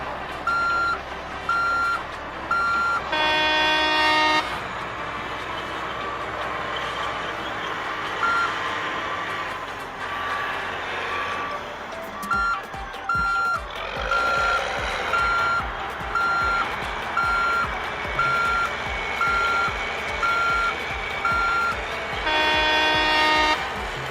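A bulldozer's reversing alarm beeps in steady repeated pulses, loud and close, over a rumbling engine that grows throatier midway, with no talk.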